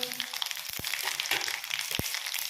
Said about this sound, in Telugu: ఆయిల్ వేడయ్యాక 1/2 స్పూన్ ఆవాలు, అలాగే 1/2 స్పూన్ జీర, 1/2 స్పూన్ శనగపప్పు